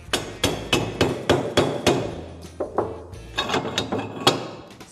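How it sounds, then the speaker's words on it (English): A hammer strikes down the piston of a hand press for charcoal briquettes in a steady run of sharp, close metallic blows, about two per second, pausing briefly midway before resuming. "Hammer down the piston."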